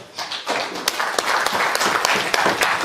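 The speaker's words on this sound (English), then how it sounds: "Another round of applause for Prof." A lecture audience breaks into applause after a public talk on AI, a dense burst of many hands clapping that builds quickly and holds steady for a few seconds.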